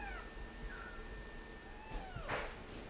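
Two one-month-old kittens meeting three adult cats, with a few thin rising and falling meows, one sharper cry near the end, all set against a steady room hiss and no talk.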